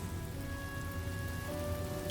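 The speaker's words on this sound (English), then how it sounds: "The rain will accompany you, and the rain will bless you." Steady rain pours in a Honkai Star Rail cutscene, a soft, even hiss of drops on surfaces with a low rumbling bed beneath, continuous and unbroken with no voices.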